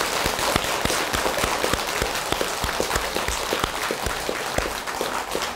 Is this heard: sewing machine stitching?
no